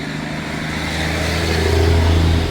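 Freeway traffic rushes below the Appalachian Trail crossing, a continuous low roar of vehicles that swells as one passes close by, with no one speaking.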